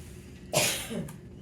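A single close, sharp cough bursts out in a classroom, followed by a softer second one, with quiet room noise around it.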